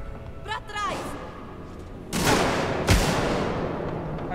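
Gunfire in the sci-fi survival horror video game Alien: Isolation: two sharp, loud blasts about a second apart, each with a ringing tail, following a brief warbling electronic tone and set against steady background ambience.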